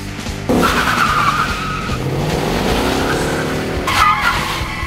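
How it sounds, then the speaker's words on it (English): A race car revs hard and its tires squeal and skid in a loud, sweeping burst, a second squeal rising near the end. "Rev up your engines!"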